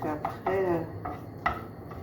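Vegetables in olive oil being stirred in a pot over the fire: a few close scraping strokes and light knocks of a spoon against the pot, including one brief squeaky scrape, fairly quiet.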